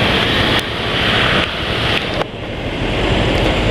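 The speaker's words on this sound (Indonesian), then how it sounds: "Nah anginnya kencang" Strong wind buffets a microphone on a car road test, a constant loud roaring rumble with a few abrupt jumps and drops in level and no voices.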